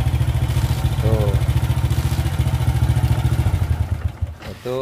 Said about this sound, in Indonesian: si bagian engkolnya itu dia nggak mau balik lagi seperti ini